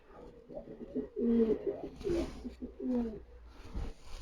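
Racing pigeons in a loft coo repeatedly in low, throaty phrases, several overlapping calls rolling in a loose rhythm, close and moderately loud with no talking.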